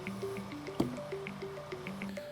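Water drips steadily from a leaking anti-freeze sillcock outlet, a near, regular patter of small droplets with a brief louder splash partway through, and no voices.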